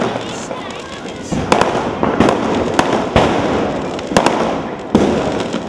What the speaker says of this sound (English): the evening explodes into a finale of firecrackers